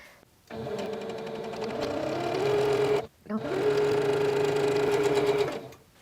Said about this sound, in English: I'm going to continue this until I have all 11 strips joined together to make one long continuous strip.